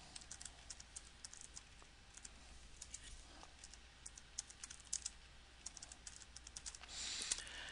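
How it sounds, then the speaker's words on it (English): Keys clicking on a computer keyboard, typing a short description into a business software form, with quick, light, irregular taps close to the mic in an otherwise quiet room. "type in a description."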